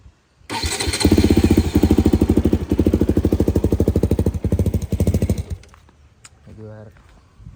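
A KTM Duke 200 BS3 motorcycle engine cranks and catches, then settles into a loud, close, rapid pulsing idle without revving before the exhaust dies down near the end.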